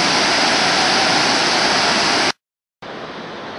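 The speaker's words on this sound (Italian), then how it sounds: "Le cascate di Giajce." Waterfalls at Jajce, Bosnia and Herzegovina, pour in a loud, dense roar that cuts out abruptly for about half a second, then returns a little quieter.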